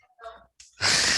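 A person yawns in an online class, a drawn-out breathy inhale with a voiced tail, followed by a sudden burst of loud broadband noise.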